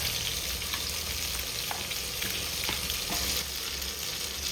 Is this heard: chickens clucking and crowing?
no